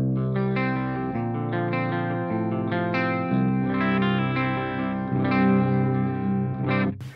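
STR LJ1 electric guitar on its bridge humbucker through a Boss Katana head's clean channel with controls at noon, playing ringing chords and single notes, close and fairly loud with a slight chorus-like shimmer, no talking.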